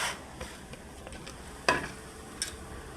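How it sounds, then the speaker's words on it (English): Noodles go into a pot of boiling water for noodle biryani, heard as a faint bubbling simmer with a few soft stirring clatters and splashes scattered through the short clip. "Now I'm going to add our old noodles biryani."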